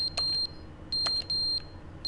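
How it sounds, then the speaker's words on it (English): A high electronic alarm in The Stanley Parable: Ultra Deluxe beeps in a steady repeating pattern, each tone holding for roughly a third of a second with short gaps between them, clear over a quiet room background. "Beeping."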